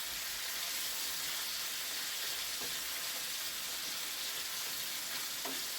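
Ramen noodles fry in a pan with a steady, close sizzling hiss, broken by a few scraping stirs; no one speaks.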